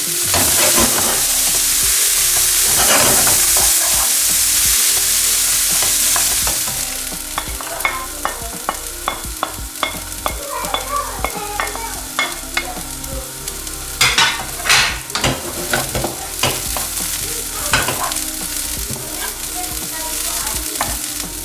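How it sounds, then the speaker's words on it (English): Onion and carrot frying in a hot pan for gluten-free root patties: a loud, steady sizzle at first, then a run of rapid utensil clinks and stirring scrapes over a continuing crackle. "add the onion and carrot first. I'm just going to cook that through."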